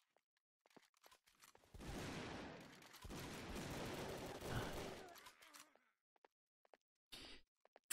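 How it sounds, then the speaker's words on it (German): Gunfire in the online shooter Brick-Force crackles as a dense burst of rapid shots lasting a few seconds, followed by a short isolated report, moderately loud amid game sounds. "Zwei Schüsse und zwei haben verfehlt."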